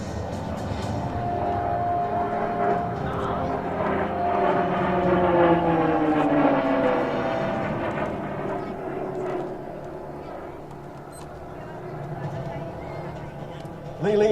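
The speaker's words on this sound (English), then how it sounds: "As Lee comes in from your right, the double aileron roll" Short Tucano turboprop flying aerobatic rolls at a military air show, its propeller drone swelling and shifting in pitch as it passes, loud and overhead with an announcer talking over it.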